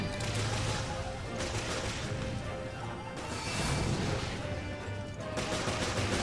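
Gunfire in Resident Evil Revelations during the final boss fight rattles in loud, dense bursts with crashing impacts, pausing briefly before the next barrage.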